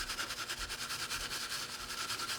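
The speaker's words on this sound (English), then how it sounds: "Try to angle the brush properly and get into the crevices if possible." A brush rapidly scrubs rust and grime from the engraved hammers of an old Damascus-barrel shotgun, making a steady, close, faint rhythmic rasping with quick even strokes and no voices.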